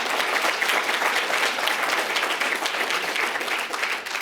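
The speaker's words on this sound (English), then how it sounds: "That deserves a big round of applause" Audience applause at a political event for a Republican candidate for Attorney General, a dense, steady roar of many hands clapping throughout, loud and sustained with no pause.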